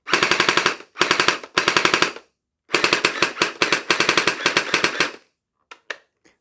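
Loud bursts of rapid full-auto fire from a Hydro Strike Pulsar Pro gel blaster, several long rattling volleys separated by short pauses, ending with a few isolated pops.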